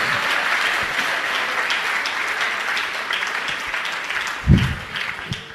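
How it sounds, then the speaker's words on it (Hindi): Audience at a Jain religious discourse applauds in a steady, moderately loud wash of clapping, with a brief low thump near the end. "आपकी तालियों में दम नहीं है"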